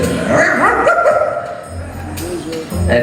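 Dog-like yips and whimpering barks, loud and close, rising and falling in pitch, performed live on stage at a comedy voice show, with a voice imitating the dog.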